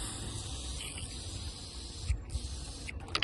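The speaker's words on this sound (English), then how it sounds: "So when I spray in this hole now, it should be coming out of that drain hole there." Cleaner is sprayed into a drain hole on a VW Golf Cabrio, a steady close hiss of spray broken by a few short bursts and faint knocks near the end.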